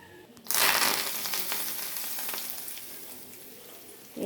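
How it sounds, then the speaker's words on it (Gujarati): Hot oil poured over a Gujarati spice masala for stuffed potatoes bursts into a loud, close sizzle that starts abruptly, then settles into a steady crackling hiss that slowly fades. "તેલ ગરમ થાય એટલે આપણે મસાલામાં નાખી દઈએ"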